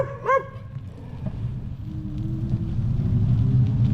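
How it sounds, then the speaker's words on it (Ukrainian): Two dogs bark at a passing cyclist, a quick burst of close yaps at the start that then gives way to rolling bike and road rumble with a distant engine hum building toward the end. "Це половчанські ці два пса. Чорний і білий. Не люблять велосипеди."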